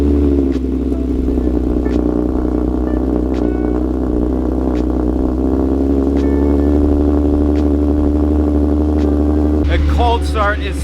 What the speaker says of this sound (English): Cold start is so much louder with the supercharger.